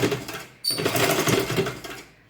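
A sewing machine stitches a folded fabric ruffle in one continuous close burst of rapid needle clatter after a brief pause, then stops.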